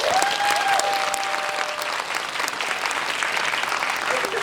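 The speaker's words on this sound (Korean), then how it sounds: "박수 한번 다시 부탁드립니다" An audience at a film premiere Q&A in a cinema hall gives sustained, dense applause that holds steady and then slowly tapers, with a brief voice over the start.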